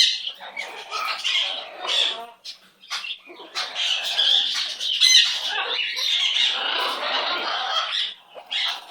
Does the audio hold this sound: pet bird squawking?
yes